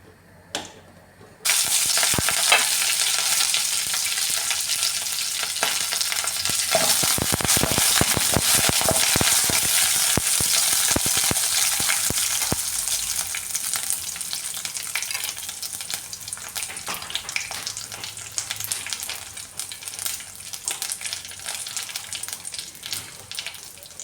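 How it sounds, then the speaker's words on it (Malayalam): Mustard seeds spluttering in hot oil for okra pachadi: a sudden loud sizzle bursts in and crackles with rapid pops, then gradually eases to a softer, steady fry. "കടുക് പൊട്ടിച്ച് ചേർക്കാമേ"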